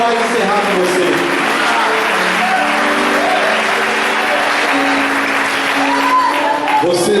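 A church congregation claps loudly in a dense, steady wash of applause that runs the full length, with voices and tones carrying over it.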